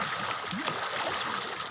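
River water flowing steadily during a river crossing, a soft continuous rushing and trickling that stays close and even throughout, with no voices.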